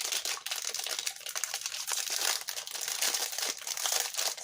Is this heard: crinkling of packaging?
yes